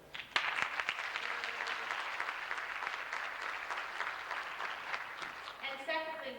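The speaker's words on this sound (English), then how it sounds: "I'd like you to applaud yourselves because you are a good group of kids" Schoolchildren at a 1992 elementary school DARE graduation break into a burst of applause that swells quickly and holds steady for several seconds before tapering, with a few voices audible near the end.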